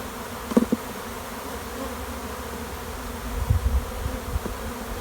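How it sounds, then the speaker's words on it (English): Low, steady buzzing of many honeybees at close range as they are shaken off brood frames into a cell starter box, with a couple of brief knocks and rustling bumps as frames are handled. "Brood, shake the bees off in the starter."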